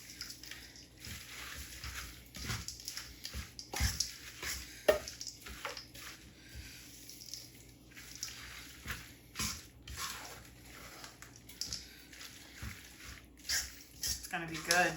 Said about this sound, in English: I got a large spoon, and I'm just going to go ahead and thoroughly mix that all together.